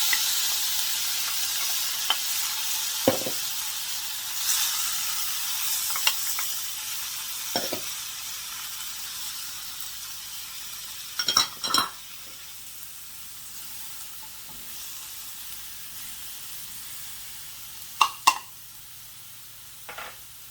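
Pork stir fry with vegetables and a little avocado oil sizzles quietly in a pan, with a steady faint hiss and a few sharper crackles and pops scattered through it, no voices.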